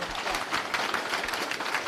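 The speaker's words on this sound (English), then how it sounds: "let's clap for Barb" A seated audience at a monthly Republican seniors' meeting in Minnesota claps for a member named Barb, producing a steady, moderately loud wash of many hands applauding together throughout.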